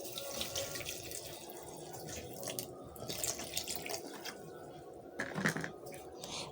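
Plain water pouring from a container into a blender jar while a lemon drink is being made, a soft continuous splashing trickle at close range.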